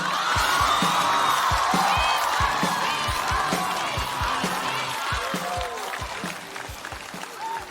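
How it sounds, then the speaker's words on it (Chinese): An audience at a stand-up comedy show applauds and cheers loudly, with steady, rhythmic, thumping claps under scattered whoops and shouts that continue for several seconds and ease slightly toward the end. "掌声有请"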